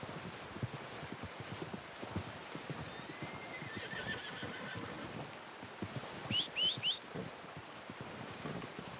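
Horse hooves clip-clopping steadily with a short whinny breaking in, set in the video game Red Dead Redemption 2, with wind noise underneath and no talk.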